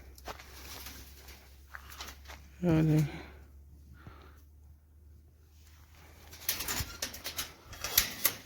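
A brief burst of wing flapping and a short bird call in a pigeon and chicken coop in a Saudi Arabian village, with a person speaking briefly and rustling noises nearby.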